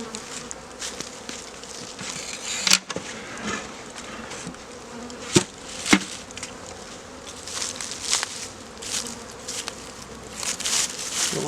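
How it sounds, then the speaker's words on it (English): Honey bees buzz in an opened hive during a spring inspection, a dense continuous hum close by with a few sharp knocks and clicks of hive parts, no talking. "You can see there's still a pretty good population of bees up here in the top."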